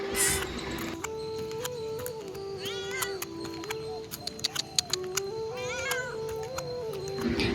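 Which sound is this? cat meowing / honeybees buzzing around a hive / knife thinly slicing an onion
cat meowing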